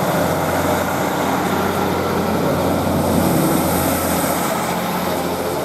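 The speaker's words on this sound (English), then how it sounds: "And this train is now set to depart." A train in Royal Air Force livery departing Thornaby railway station toward Newcastle: a loud, steady engine roar and rumble that holds continuously throughout, heard from the platform with no talk.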